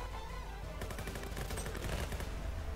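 A grenade launch and gunfire ring out in the browser shooter game Venge.io as a rapid burst of clattering shots in quick succession, dense and evenly spaced, with no talking.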